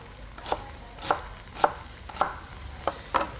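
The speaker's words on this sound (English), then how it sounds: "Roughly chopping up my celery." Knife roughly chopping celery on a cutting board: six separate sharp chops spaced about half a second apart, close and fairly quiet, with no talking.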